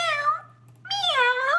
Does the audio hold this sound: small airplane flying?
no